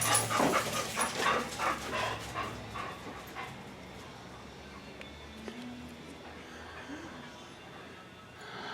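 A dog pants and yips in quick close bursts over the first few seconds, then goes quiet, leaving faint room noise.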